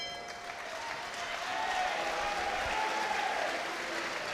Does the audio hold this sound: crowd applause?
yes